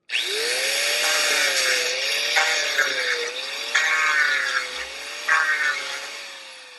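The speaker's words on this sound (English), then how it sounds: "The next thing we'll do then is sand this area." A steady power-tool whine runs throughout, with rhythmic grinding swells as the sander works a knot in the wood, loud and close.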